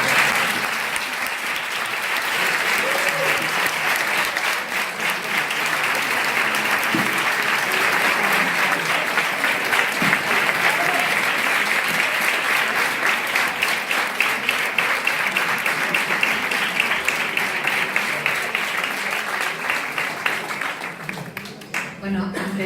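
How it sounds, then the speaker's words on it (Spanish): Sustained, dense applause fills a lecture hall audience after a clinical psychologist's conference talk on anxiety, steady and loud for most of the stretch before tapering at the end. "si me dais un aplauso"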